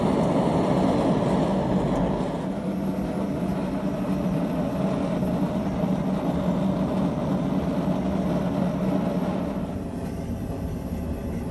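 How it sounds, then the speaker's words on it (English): A gas forge burner roars steadily as a constant low rumble, with the tone shifting slightly partway through, and no voices. "I decide to use my gas forge for this try."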